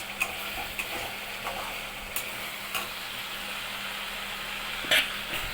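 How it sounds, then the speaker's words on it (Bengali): Spice paste sautéing in oil in a pan gives a steady, moderate sizzle, broken by occasional soft ticks and clicks of a spoon against the pan. "ভালো করে একটু মশলাটা কষিয়ে নিয়ে"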